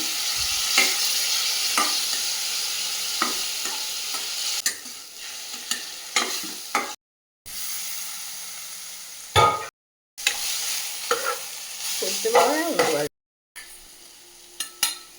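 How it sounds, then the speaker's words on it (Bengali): Spice masala of turmeric, cumin and coriander powder with a little water fries and is stirred in a pan, a steady close sizzle broken by repeated scraping strokes and a few brief gaps. "সামান্য পরিমাণ জল দিয়ে এটাকে মশলাটাকে ভালো করে কষিয়ে দিতে হবে"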